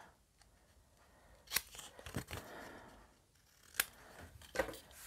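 Scissors snip through paper while crafting a pop-up album page, with a few separate crisp cuts and rustles spaced apart, close and fairly quiet, with no talking.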